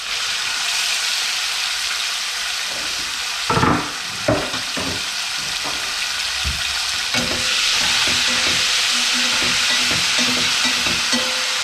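Onions frying in a deep layer of lamb tallow give a loud, steady sizzle, broken by a few sharp spatula knocks and scrapes and later a busier crackle of bubbling fat.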